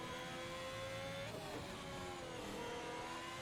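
A Ferrari Formula 1 car on medium tyres accelerates at Suzuka in an F1 video game. Its loud, constant engine whine climbs in pitch through a gear change, with no voices.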